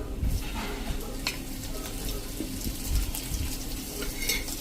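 Ginger, chili and garlic paste frying in hot oil after cumin has crackled, a soft steady sizzle with a low rumble and occasional faint clinks, close but fairly quiet and without speech.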